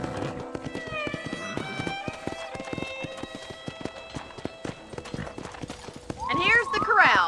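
Horse hooves clip-clop in a steady rhythm with a whinny near the end, on a ranch in the video game Red Dead Redemption, with game music and talk running throughout.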